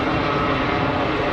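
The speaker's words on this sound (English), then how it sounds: "Got another easyJet blasting off in the background" An easyJet airliner taking off at Geneva Airport gives a steady, broadband jet roar that holds loud and even throughout, with no talk over it.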